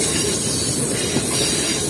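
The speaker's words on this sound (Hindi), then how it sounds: "2:30 बजे हमारी ट्रेन शिफ्ट कर रही है धाबे से रेलवे स्टेशन को" Green Line Express passenger train running from Lahore toward Karachi: loud, continuous rumble and rushing rail noise heard from inside the carriage, with a faint metallic hiss and no breaks.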